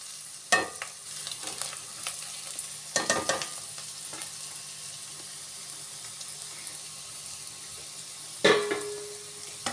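Turmeric, coriander and Kashmiri red chili fry in a pan with a soft, steady sizzle, broken by a few sharp scraping stirs near the start, around three seconds and near the end; close and fairly quiet, with no talking.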